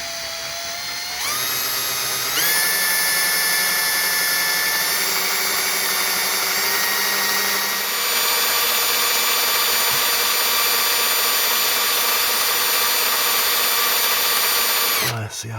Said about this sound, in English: You put this attachment on the drill, and then you've got a right angle for tight spaces.